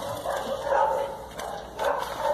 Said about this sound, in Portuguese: na minha rua aqui tem cachorro até umas horas